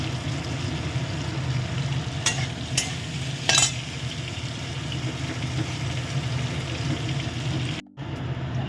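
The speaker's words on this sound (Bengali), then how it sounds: "তেলে ভেজে নিচ্ছি।" Fish frying in hot oil gives a steady, close sizzle and bubbling that runs throughout, with a few sharp crackles and spits and a short dropout near the end.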